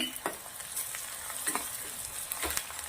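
Finely chopped onion sautés with garlic, chilies and ginger in a pan for a Punjabi-style dahi bhindi dish, giving a steady soft sizzle with a few brief stirring scrapes close by.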